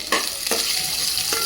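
Spices for a tempering fry in hot oil in a pan, giving a steady sizzling hiss with a few brief crackles and stirring scrapes, close up and without talk.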